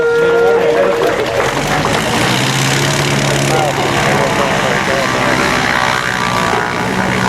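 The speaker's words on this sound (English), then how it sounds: "Beautiful short field takeoff and landing." A bush plane's propeller engine drones steadily and fairly loud throughout a short-field landing, with a voice talking over it.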